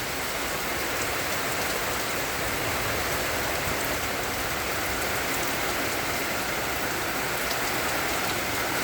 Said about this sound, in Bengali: সকালবেলা দেখো কি ঝড় বৃষ্টি হচ্ছে